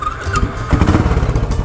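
A Royal Enfield Bullet 500 motorcycle engine catches after a brief starter whine, then settles into a loud, close, pulsing thump.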